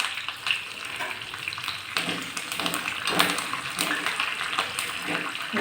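Curry leaves and crushed garlic fry in hot oil for rasam, sending up a loud, continuous sizzle with bursts of crackling and occasional stirring taps close by.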